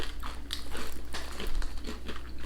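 Crisp bites and crunchy chewing of ridge-cut, chorizo-flavoured British crisps, a steady run of close, sharp crunches packed into a couple of seconds with no talking.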